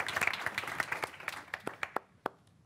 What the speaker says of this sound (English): I just want to say a big applause for Salesforce and their minds